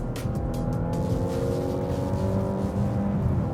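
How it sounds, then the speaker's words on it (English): A Mazda CX-60 SUV with a 2.5-litre engine accelerates hard from a standing start, giving a sustained, steady engine whine with rising tonal harmonics that stays loud and close throughout, with no talking. "That whine. You shouldn't be getting that noise from an SUV."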